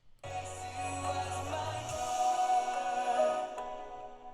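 Music plays quietly as a low, droning part fades away and a brighter, sustained passage swells in to take its place, a crossfade between two clips in Ableton Live.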